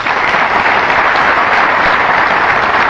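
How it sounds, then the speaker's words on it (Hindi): An audience at a Gita Jayanti gathering in a Delhi ashram claps loudly and steadily, a dense, even wash of applause filling the whole stretch without a break. "ताली आपकी शहर में इतनी जोर से बजनी चाहिए कि उनके अंतःकरण को छू जाए"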